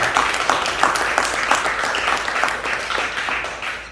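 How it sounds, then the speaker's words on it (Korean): A church congregation applauds in encouragement for young worshippers after their praise song at a Sunday service in Cebu, a steady dense patter of many hands clapping throughout, fairly loud and fading slightly at the end. "오늘 찬양을 올린 우리 귀한 친구들에게 격려의 박수를 한번 보내겠습니다."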